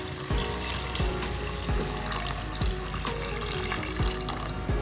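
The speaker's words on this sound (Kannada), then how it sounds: "ಸರಿ ನೀರು ಹಾಕ್ಕೊಳ್ತಾ ಇದ್ದೀನಿ." Hot water is poured into a cooking pot for chicken biryani, a continuous splashing, gurgling stream with rhythmic sloshing pulses roughly once a second, loud and close.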